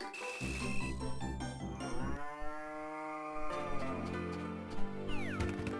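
Cows moo in the farm game Harvest Moon DS, several long, loud, drawn-out lows following one another over tonal game music, with no talking.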